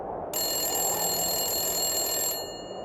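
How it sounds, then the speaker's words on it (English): A telephone rings in one sustained bright electronic trill lasting about two seconds, close and clear in a quiet room. "Then the phone rang."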